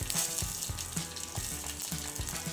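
Cumin seeds drop into hot oil already holding mustard seeds, giving a steady close sizzle with small crackling pops and no one speaking.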